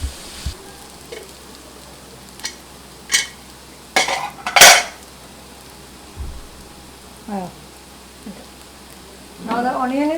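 Onions fry in a pan for a beef roast, a soft sizzle running underneath while a utensil clinks and scrapes against the pan in scattered, sharp bursts of stirring.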